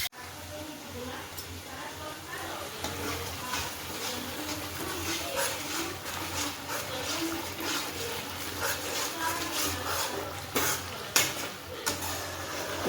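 Vegetable curry of ol (elephant foot yam) simmers in a pot on a low flame, and a spoon stirs and clinks against the metal in scattered scrapes and taps while someone talks over it.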